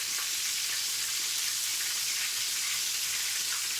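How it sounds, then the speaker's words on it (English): Breaded chicken fried steak sizzles in a pan on an electric stove set to medium, a steady, close hissing crackle with no talking. "I have it frying on medium in the middle"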